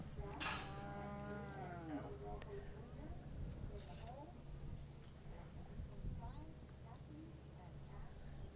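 Cattle moo several times at a stockdog trial, long drawn-out lowing calls close by over a steady crowd murmur, with a few voices talking in the background.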